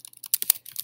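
Fingers type on a computer keyboard, a quick run of crisp, close key clicks in an uneven rhythm over under a second.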